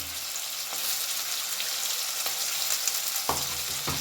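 Spices (salt, turmeric, chili and coriander powder) stirred and frying in a pan for daliya, a steady close sizzle with scraping stir strokes throughout and a sharper scrape near the end.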